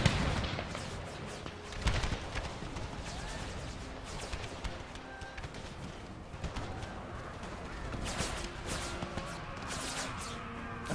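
Scattered rifle fire and dull artillery booms from an American Civil War battle game, fairly faint and distant-sounding, with someone talking over the shots much of the time.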